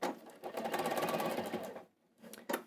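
Sewing machine stitching a fabric tablet case runs in a steady close whirr for nearly two seconds, pauses, then gives a short final burst.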